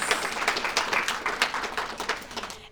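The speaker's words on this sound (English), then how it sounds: "Round of applause." Applause from an audience at a community children's awards ceremony held at a shrine, a dense, steady patter of many hands clapping throughout, fairly close and without talk.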